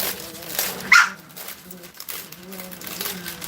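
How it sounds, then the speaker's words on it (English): Puppies bark and whimper indoors in the morning, a short sharp yelp followed by softer scattered whines and yips, with a voice talking in the room. "If you can hear, my puppies are definitely having a good morning."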